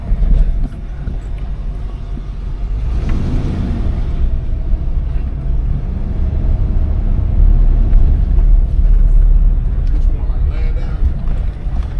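Low, steady engine rumble of a 1994 Ford Bronco on the road, with rattling and road noise throughout and a brief voice near the start.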